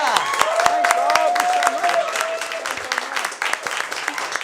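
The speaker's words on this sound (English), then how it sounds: "Big round of applause for Tim Ferguson right here." A television studio audience applauding a guest, Tim Ferguson, dense steady clapping close and loud for several seconds while a host's voice speaks over it.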